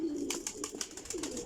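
Kasni pigeons give steady low cooing from a nearby flock, layered with short bright rustling bursts and flutters.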